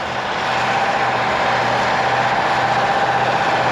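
A car engine hums steadily on a cold day beside a ploughed field, with a low, even idle that swells slightly at the start and then stays constant, with no one talking.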